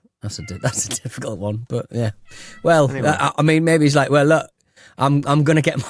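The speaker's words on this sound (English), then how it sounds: "Sorry about my cat in the background" An excitable cat meows repeatedly in the background, long rising and falling cries woven under and between loud close talk from a man.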